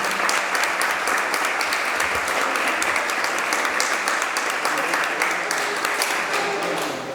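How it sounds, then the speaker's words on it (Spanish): An audience applauds a speaker at a political education course, with dense, sustained clapping that stays loud and even from start to finish. "Así que un aplauso para ella"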